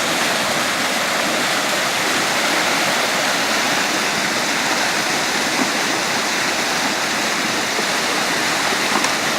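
Muddy flash flood water rushes past in a loud, steady, unbroken roar of churning current, close by and with no voices.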